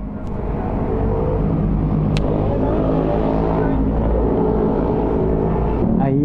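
Rush-hour traffic heard from a motorcycle on a night ride near Masinag: a loud, continuous engine rumble with rising revs, road noise and passing vehicles, plus a couple of short sharp clicks.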